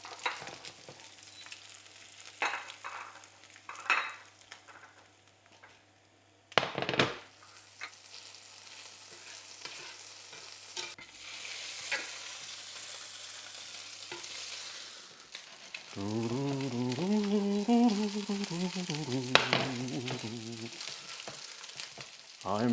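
Meatballs fry in a pan with a continuous crackling sizzle, broken by louder scraping and stirring clatters; near the end a voice hums a tune over the sizzling.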